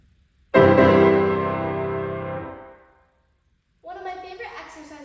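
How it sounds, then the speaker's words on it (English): Loud piano chords struck with both hands ring out in one big sustained chord that fades over a couple of seconds, followed by a brief pause and a softer new phrase. "The piano has an especially loud volume, especially when playing chords with both hands like this."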